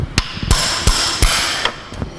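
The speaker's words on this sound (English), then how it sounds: "I think it's just hitting it with a hammer" Six sharp metallic hammer strikes on a knock-off spanner, tightening a wheel on a 1981 MGB GT, ring out at a steady, unhurried rhythm, close and loud, each one followed by a short ringing decay.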